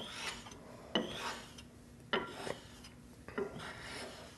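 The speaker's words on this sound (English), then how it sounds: "the cutting's getting way quieter, which means the stone is barely taking any more metal off" A jointer or planer knife is honed on a sharpening stone in a few soft, separate scraping strokes, each starting with a light scrape and fading. It is close but quiet, with no speech.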